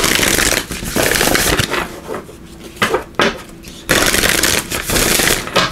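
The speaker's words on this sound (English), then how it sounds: "Let's give these a quick shuffle." Cards are shuffled loudly and close up, a few riffling bursts broken by brief pauses and soft handling sounds.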